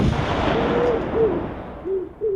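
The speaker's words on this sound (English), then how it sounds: "this time I want a cannon sound effect and a pigeon coo" Comedic studio sound effects: a heavy cannon boom rumbling and fading, with soft pigeon-like coos repeating over the decaying blast.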